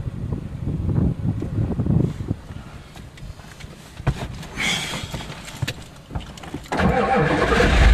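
A Ford truck's engine cranks and turns over with uneven clattering bursts, then catches and settles into a louder, steady running rumble near the end.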